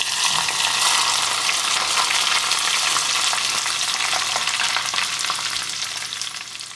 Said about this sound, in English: After you put hot oil on the chili,